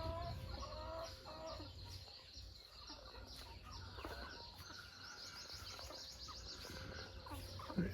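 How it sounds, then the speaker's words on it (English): Hens in a remote Thai village cluck and chatter continuously at close range, with other birds chirping in the background over a steady outdoor hum. "Let's see how the chickens are going on today."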